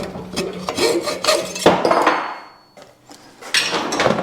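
Hacksaw cutting a metal billet for a brake pedal, with repeated rasping back-and-forth strokes close up, then a brief pause before the sawing resumes.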